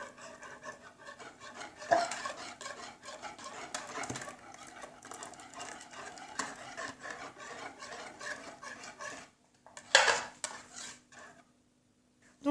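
A child stirs a small cake batter in a bowl, making soft, irregular scraping and rubbing strokes that repeat close by for several seconds, with a brief pause before a final burst of stirring.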